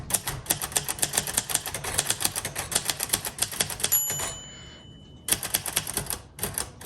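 A 1957 Royal Quiet Deluxe manual typewriter types in a fast steady run of crisp key strikes, pausing briefly with a bell ding and carriage sound before a few more keystrokes.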